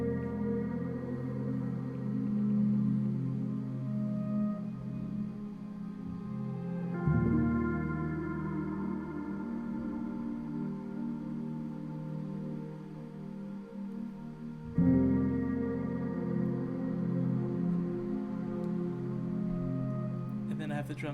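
A mellow lofi track with drums removed plays soft, sustained felt-piano chords from Spitfire Audio's Originals Felt Piano. Warm chord changes arrive at slow intervals of roughly seven seconds, and the sound is steady and moderately quiet.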